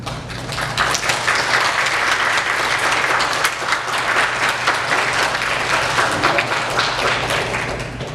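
A church congregation applauds at a Sunday service to welcome visitors, a loud, even burst of many hands clapping that continues without a break.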